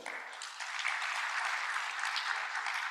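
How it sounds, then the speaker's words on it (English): A large audience applauds at a conference opening session, a dense, steady wash of clapping that builds quickly and holds for the whole stretch. "To our partners, please, a round of applause,"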